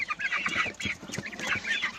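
Chickens and roosters in a coop, nineteen birds in all, clucking and squawking close by in overlapping bursts without pause.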